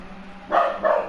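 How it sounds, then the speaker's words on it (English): A dog barks twice in quick succession, fairly near, during a motorsport broadcast commentary with a constant low hum underneath. "I do apologise for my dog barking once more."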